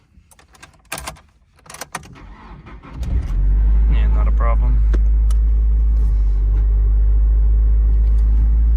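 A 1999 Nissan Silvia S15 Spec-R cold-starts after some clicks and key handling, the starter cranking briefly before the engine catches into a loud, steady, deep idle; a person speaks briefly before it fires.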